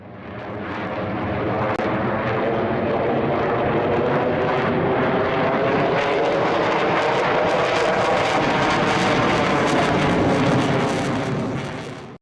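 Sukhoi Su-57 fighter jet flying past, a loud, steady, broadband engine roar that holds for about twelve seconds with no speech.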